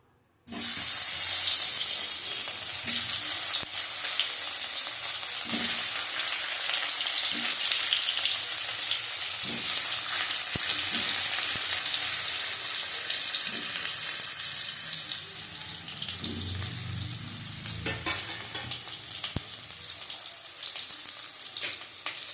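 Boiled small potatoes fry in hot oil for aloo dum, a loud, steady, broadband sizzle that runs continuously and eases slightly toward the end, with faint clinks of a utensil underneath.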